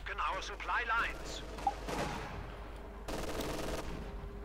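Automatic and rifle gunfire from a Company of Heroes 2 real-time strategy battle, with a Panther tank and T-34s nearby, crackling in dense overlapping bursts under steady rumble while a commentator talks over it.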